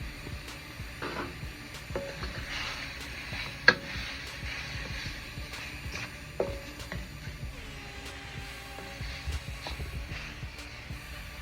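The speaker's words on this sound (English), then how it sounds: "Add your king crab. You're just going to saute just a little bit because it's already cooked." King crab, already cooked, sautéing briefly in a pan for a seafood Alfredo pizza topping: a soft steady sizzle with occasional stirring scrapes and a few sharp utensil clicks, close and fairly quiet, no talking.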